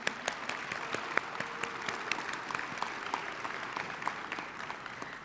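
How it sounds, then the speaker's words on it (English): Audience applause at a College Park Black History program after a musical selection, a fairly soft, steady patter of many hands with distinct individual claps standing out throughout. "Let's give them another round of applause."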